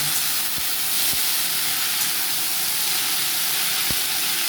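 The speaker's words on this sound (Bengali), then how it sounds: "এর মধ্যে এবার রসুনটা আমি দিয়ে দিলাম কেটে রেখেছিলাম এবার ভালো করে আমি ভেজে নেব" Garlic and washed leafy greens fry in a hot pan, giving a steady, loud broadband hiss with no breaks, and a few faint soft knocks sound underneath.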